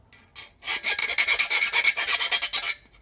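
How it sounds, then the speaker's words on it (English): A small rat tail file deburrs drilled holes in a thin metal charcoal chimney, making quick rhythmic rasping strokes, about a dozen close, bright scrapes in a row with nothing else heard. "get a round file and just deburr this a little bit"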